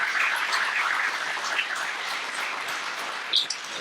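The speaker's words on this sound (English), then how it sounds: "How about a round of applause for that team?" Applause for a team at a minority construction industry day event, a steady wash of clapping from a room of people, fairly even throughout with no talking over it.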